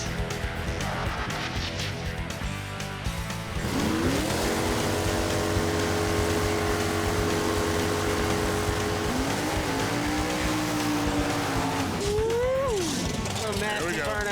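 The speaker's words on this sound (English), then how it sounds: "Nasty burnout for us." A drag racing car doing a burnout at a drag strip, a sustained loud engine roar with rising and falling pitch sweeps, heard under crowd and announcer talk.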